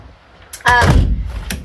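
Duck door on a canal boat being opened, a close, loud wooden-metal thunk and rattle followed by a short scraping knock as the door swings, heard alone.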